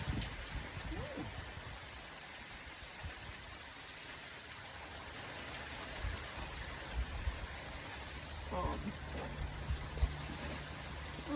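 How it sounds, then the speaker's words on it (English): Rain falls on a farm with goats, a faint, steady hiss of drops and patter spread across the whole span, with a few soft knocks and bumps now and then. "it is raining"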